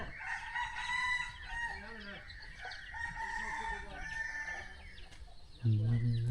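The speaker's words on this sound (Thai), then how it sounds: "บรรยากาศยามเช้า เสียงนกฮ้องชั่วเชี่ยวอยู่พี่น้อง" Morning birds call in a rural village ringed by mountains and a river, with chickens clucking and a rooster crowing loudly near the end.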